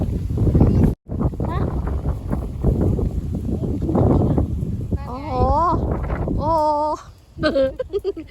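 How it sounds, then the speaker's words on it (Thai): Strong wind in a Japanese cherry orchard buffets the microphone with a loud, continuous low rumble throughout, while people talk over it. "วันนี้ลมแรงมากเลยนะคะ"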